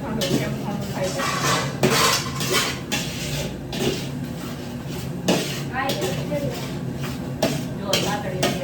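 A metal ladle clanks and scrapes against a pot while food cooks in a home kitchen, repeated sharp knocks at an irregular rhythm beneath steady talking.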